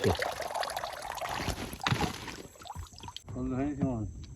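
Fish being washed, with water pouring and splashing for a few seconds, mixed with rustling and knocks, before it stops and a voice talks.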